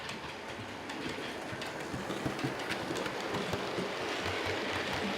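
Small-scale model trains roll around a railway layout toward a fiddle yard, producing a steady rumbling clatter with light rhythmic clicks from the track, loud and close throughout with no voices.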